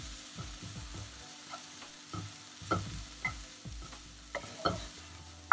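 Vegetables for a clear vegetable soup sauté in a pan, with the soft hiss of frying under repeated scraping strokes of a spoon stirring them, close by and uneven in rhythm.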